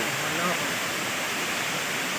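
Rushing water at Ghatrani waterfall roars as a dense, continuous wash of broadband noise, steady and close throughout.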